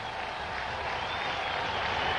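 A stadium crowd at a 1994 Cowboys-Bengals football game roars in a dense, continuous wash of cheering and applause that holds steady and swells slightly.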